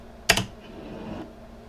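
A single computer keyboard space bar press lands close and crisp, one sharp click followed by a faint soft tail in a quiet room.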